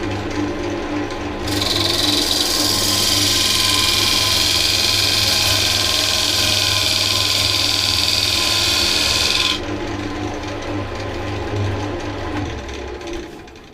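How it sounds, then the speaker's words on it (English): A wood lathe spinning steadily while a parting tool cuts into the workpiece, a loud continuous hum with a bright scraping whine that starts, holds for several seconds, then stops while the motor keeps running. "I'm just going to mark that off with the parting tool first"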